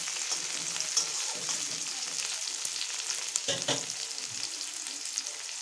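Cut potato fries in a pan with a continuous, even sizzle and the occasional light stir, close but moderately quiet, with nobody speaking.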